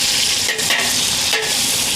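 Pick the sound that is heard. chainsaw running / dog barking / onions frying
onions frying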